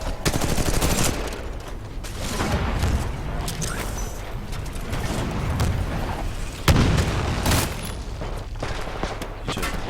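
Gunfire in the shooter game Titanfall 2, repeated sharp shots and bursts over rumbling booms and a busy battle background, with a faint voice now and then.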